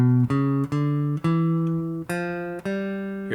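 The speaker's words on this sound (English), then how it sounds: "We're going to create a G Lydian Dominant." A G Lydian Dominant scale on guitar, six or seven clear single notes picked one after another in an even, stepwise rising run, each ringing briefly before the next, close and solo.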